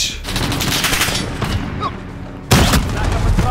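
Shotgun fire in Modern Warfare multiplayer, dense booming blasts close up, with a heavy burst near the end over chaotic game noise.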